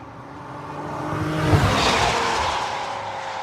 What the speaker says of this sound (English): Exhaust sounds so good. The tone of it is awesome.